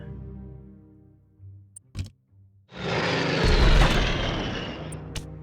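Aircraft engines of planes dropped in a strategy video game set around Trondheim, rising into a loud, sustained rumbling roar that swells and holds after a short, sparse lead-in.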